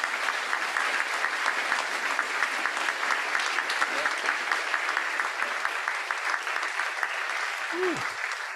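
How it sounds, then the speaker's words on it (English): An audience at a keynote by an illustrator gives a steady, sustained round of applause. The clapping is dense and even from start to finish, with a faint voice briefly audible near the end. "Nice round of applause."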